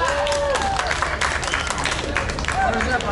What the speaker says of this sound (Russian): Это аплодисменты для Эминема.